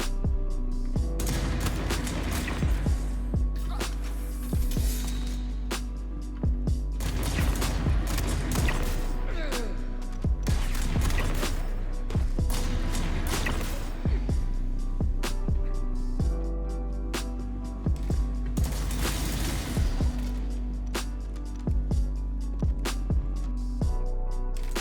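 Prism laser shotgun firing in Star Citizen, repeated sharp discharges in clustered bursts over a steady low hum, loud and close, with occasional speech.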